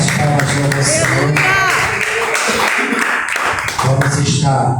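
Congregation clapping during a church service, rhythmic applause mixed with loud talk and singing voices over it, close and energetic.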